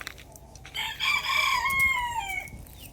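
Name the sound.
chickens clucking and crowing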